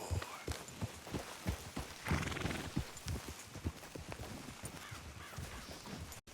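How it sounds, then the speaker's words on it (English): Horse hooves clip-clopping on a trail in Red Dead Redemption 2, with a horse whinnying partway through and crows cawing in the background, moderately close and steady. "Let's leave the horses here and go the rest on foot."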